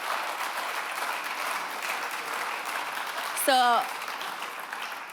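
Symposium audience applauding in a plenary hall, steady moderate clapping throughout, with a brief whistle-like tone midway and a voice at the start.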